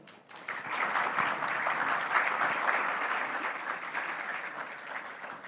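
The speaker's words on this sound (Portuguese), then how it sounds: "uma salva de palmas para a Paula" An audience at a tech talk on Android app performance applauds the speaker Paula, with clapping swelling in after a short quiet start and staying full and sustained to the end.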